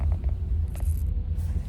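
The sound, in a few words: cars in heavy road traffic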